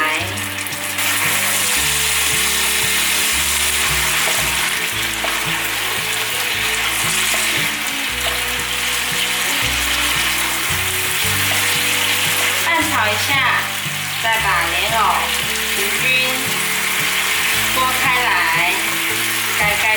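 Red and yellow peppers added to a pan with lotus root and stir-fried, giving a loud, continuous sizzle with occasional bursts of crackling, while music plays steadily underneath.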